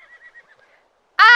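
Video-game horse on the Horse Tales: Emerald Valley Ranch farm giving one short, loud whinny after its rump is scratched, alone, following a faint quiet sound beforehand.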